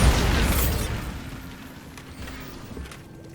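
A Bombarda explosion spell going off in the Hogwarts Legacy video game, a loud booming blast at the start that rumbles and fades into a lingering low tail with faint ringing.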